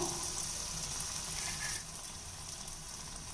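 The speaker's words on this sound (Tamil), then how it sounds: "அந்த எண்ணெயோட சலசலப்பு இப்போ நல்லா அடங்கி வந்துட்டுருக்கு" Appam batter sizzles in oil in a pan as a faint, continuous crackle that quiets partway through and carries on alone without speech.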